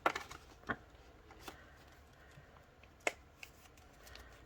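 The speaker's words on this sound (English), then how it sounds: "I must admit I do not like folding the notes." Paper banknotes being handled and folded for cash-envelope budgeting, heard as quiet crisp rustles and a few sharp snaps of paper, close up and sparse, with no talking.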